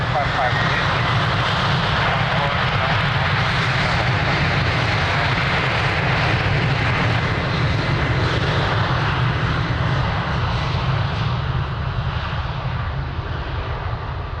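An airliner takes off from runway 02 at Lisbon Airport, a loud, continuous jet engine roar that holds steady throughout and fades slightly at the end, with no voices over it.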